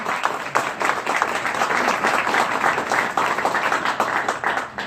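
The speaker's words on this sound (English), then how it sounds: "yeah, somebody can applaud." Crowd applause fills the room at a hockey league announcement of a brand new team, a dense, steady clapping that carries on without a break for about five seconds, loud and close.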